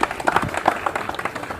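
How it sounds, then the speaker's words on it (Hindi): An audience claps at a public gathering in Kannauj, India: a quick, uneven patter of separate hand claps, moderately close and continuous throughout. "तालियां लगातार बजाइए सब लोग, लगातार"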